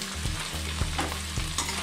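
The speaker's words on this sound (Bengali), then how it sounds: "এবারে জিনিসটাকে আমরা হালকা করে ফ্রাই করে নেব।" Boiled potatoes with green chilli and skin-on fried peanuts fry in a pan, a dense sizzle broken by a few quick scraping stirs, close and fairly loud.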